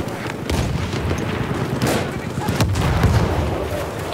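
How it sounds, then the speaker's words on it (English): Battlefield 1 gameplay with booming explosions and bursts of gunfire, loud and close, a dense rumbling barrage with sharp cracks rising and falling throughout. "Oh, the explosions are awesome!"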